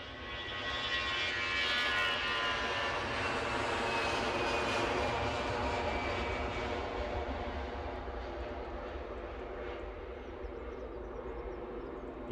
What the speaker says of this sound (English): Ooh, Dreamliner in the background.